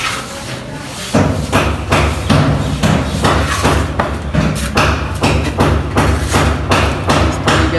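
Mortar plaster thrown by hand onto a ceiling: a steady series of heavy wet slaps and thuds, one roughly every half second, loud and close throughout.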